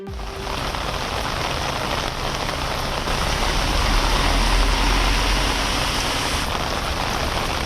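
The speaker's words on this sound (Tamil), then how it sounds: "தமிழகத்தின் பல்வேறு பகுதிகளில் பரவலாக மழை பெய்தது." Heavy rain pours steadily across parts of Tamil Nadu, a dense, continuous hiss of drops hitting surfaces that stays loud and even throughout with no voices.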